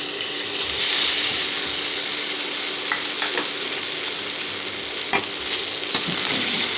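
Marinated paneer fries in hot oil in a pan over a low flame, giving a steady close sizzle with a few soft clinks and scrapes from stirring partway through.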